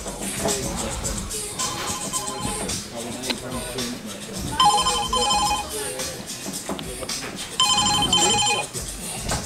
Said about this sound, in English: Director of IT's just got to answer the phone